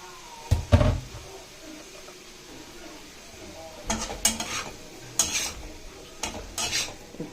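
Cooked rice is tossed into paneer keema in a pan, giving short scraping and clanking stirs in separate bursts over a faint background, with quiet gaps between strokes.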